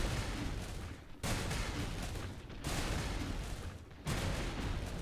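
Massed infantry volleys in a Gettysburg battle game, a dense continuous crackle of rifle fire that surges in three loud bursts separated by brief dips, with no talk.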